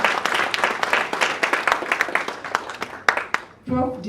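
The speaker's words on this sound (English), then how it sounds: "Another round of applause." Scattered audience clapping at a civil society organizations' convening, moderately loud with uneven individual claps and sharp peaks, fading out near the end as a voice starts talking.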